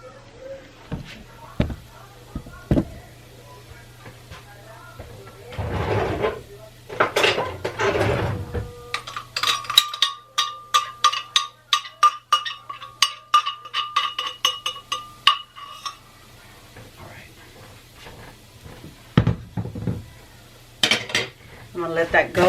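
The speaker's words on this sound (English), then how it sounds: "straining that chile in there" Cooked chile for cheese enchiladas is poured through a metal strainer into an empty pot, giving a long run of rapid metallic clinks and scraping taps, loud and close, with splashy bursts before and after.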